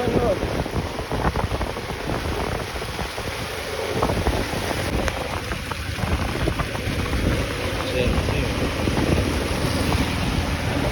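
Heavy rain pours steadily and loudly throughout, a dense continuous hiss with some wind buffeting the microphone.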